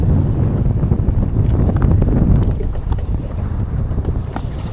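Strong wind batters a small fishing boat at sea, a loud continuous low rumble of microphone buffeting with occasional brief knocks and rattles, no voices over it.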